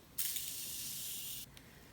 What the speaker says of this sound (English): Since I baked my face, I'm gonna just focus the spray more on the top of my face